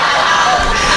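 At a Sundanese sermon during a haul gathering, a crowd cheers and shouts loudly and continuously. Whoops and children's voices mix into a dense roar.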